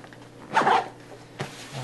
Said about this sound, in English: Struggling with the zipper,